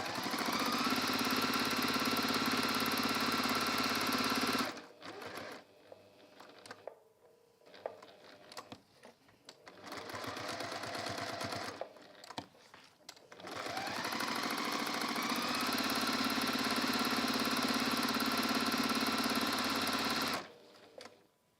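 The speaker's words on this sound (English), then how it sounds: "If you want to sew across there, you can." A sewing machine stitches fabric during textile crafting, its motor whirring steadily in three long close bursts separated by quieter pauses, with no talking.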